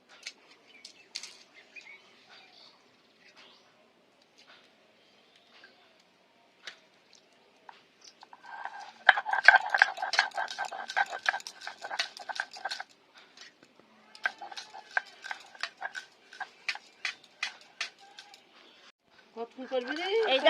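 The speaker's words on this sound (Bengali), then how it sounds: "এই ডালগুলো এখন বেটে নেব।" Soaked red lentils (masoor dal) being ground on a stone grinding slab (shil): close, gritty scraping strokes in irregular rhythmic runs that start after a mostly quiet opening and continue to the end.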